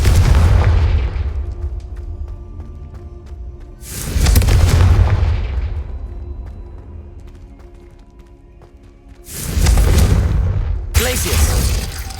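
Booming fire-blast spell explosions in a magical open-world adventure video game, three loud bursts each rolling into a long decaying rumble, the last two close together.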